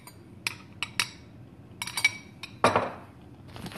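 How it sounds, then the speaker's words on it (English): A spoon scrapes and clinks against a bowl while mixing oatmeal, with several sharp taps and one longer scraping stir near the end, close and fairly quiet. "mix up the oatmeal real good"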